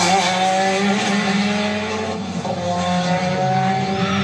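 A Renault 5 Turbo driven hard, its engine snarling loudly and steadily close up, with tire squeal over the top and the pitch dipping briefly midway.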